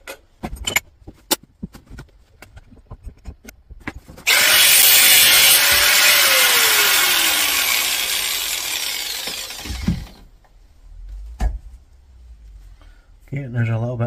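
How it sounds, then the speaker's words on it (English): An angle grinder cuts apart a CO2 fire extinguisher for scrap in a loud, harsh grinding burst of about six seconds, its pitch slowly sagging under load. Clanks and talk come before and after the cut. "So the grinder's coming back out again."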